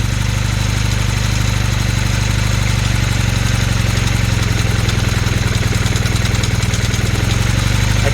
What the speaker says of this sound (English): I wonder if it's the starter clutch I'm hearing kicking